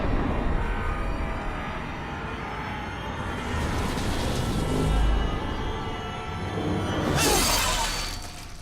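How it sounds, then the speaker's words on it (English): Glass shatters in the action video game Metal Gear Rising: Revengeance, heard as a bright crash near the end over a dense, rumbling game soundscape, with a softer burst of debris midway. "quickly go break the glass"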